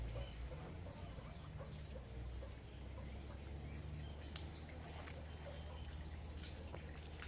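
Penned chickens being fed on a rural homestead, faint scattered clucks and soft calls over a low steady background hum, distant and quiet throughout.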